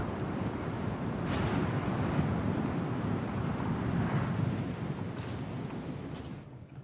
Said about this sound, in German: Ganz schön stürmisch hier.